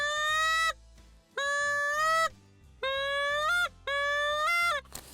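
A DRC goose call sounded with too little hand pressure on the end, producing four long, drawn-out honks that hold one pitch without breaking over, evenly spaced, close and loud with no talking.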